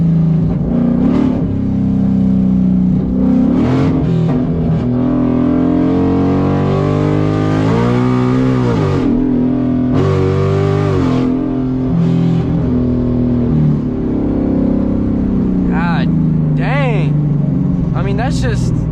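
A car on a 15 inch drag pack revs hard as its tires spin, the engine note rising and falling in repeated loud surges with someone talking throughout.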